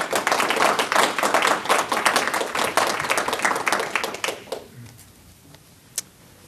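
Applause from a lecture audience welcoming a guest speaker, dense clapping for about four seconds before fading out, leaving a quiet room with a single late clap.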